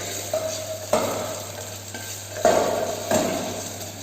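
Onion with ginger garlic paste being stirred and sautéed in a pan in a training kitchen, a steady close sizzle broken by a few louder scrapes and stirs, no talking.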